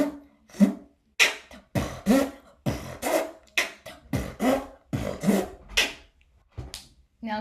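A beatboxer imitates a zipper with his mouth, producing a series of sharp, rhythmic zipping bursts repeated about a dozen times, close and fairly loud with short gaps between them.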